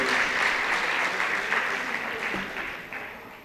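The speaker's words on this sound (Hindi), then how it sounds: "ज़ोरदार तालियों से राजीव प्रियदर्शी का स्वागत करें आप लोग" An audience at a Hindi literary gathering claps together in a dense burst of applause that gradually fades toward the end.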